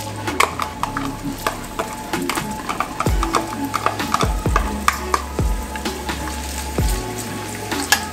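Onion sizzles steadily in hot oil in a pan, a dense crackling hiss broken by the knocks and scrapes of stirring. It is close and fairly loud, with no talking.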